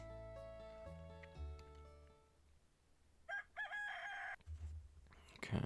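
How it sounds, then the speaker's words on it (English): A rooster crows loudly in a drawn-out call, rising through harmonic tones, after a stretch of soft game music in Stardew Valley; a short crunchy rustle follows. "Why is there rooster noise?"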